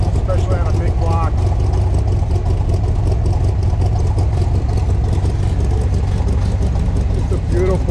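A 1967 Corvette convertible big-block V8 rumbles steadily through its side exhaust, loud and close with a constant low throb and a slight rev near the start and end; a voice is briefly audible.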